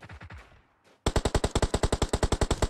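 Video game gunfire: a few soft shots, then a sudden rapid automatic burst of about twenty evenly spaced, loud rounds, close and with no talk over it.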